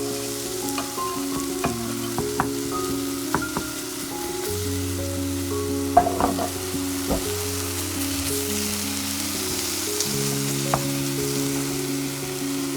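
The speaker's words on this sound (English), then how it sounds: "Let's add a little bit more avocado oil. Let that heat up and we'll add some onions." Onions frying in avocado oil in a skillet give a steady crackling sizzle with occasional sharp pops and light stirring, close by, over a continuous tonal hum, with no speech.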